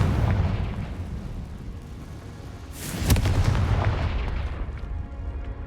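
A Confringo fire spell in Hogwarts Legacy goes off with a deep, rumbling blast, a sharp crackling burst in the middle and a roaring tail that slowly fades, loud and close with no talking.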